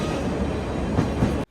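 Sagano Romantic Train in Arashiyama, Kyoto rolling steadily along the rails, a loud continuous rumble with rhythmic wheel clatter, cutting off abruptly just before the end.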